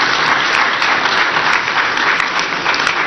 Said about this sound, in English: Ladies and gentlemen, another round of applause for His Excellency.